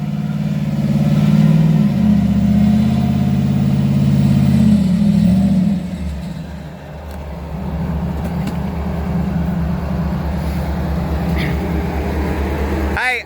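An off-road vehicle's replacement motor revs loud and close on a trail after a winch recovery, a strong roaring rise in the first seconds that then settles into a steadier, lower engine drone.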